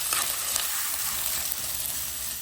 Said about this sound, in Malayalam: ഇഞ്ചി വെളുത്തുള്ളി ചതച്ചത് ഒന്ന് വഴണ്ടി കഴിഞ്ഞിട്ട് നമുക്ക് സവാള ഇട്ട് കൊടുക്കാം